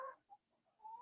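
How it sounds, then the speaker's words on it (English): Backyard chickens cluck outside a window in a few short, soft calls, distant and faint, with quiet gaps between them. "I don't know if you can hear that, but my chickens are clucking outside the window."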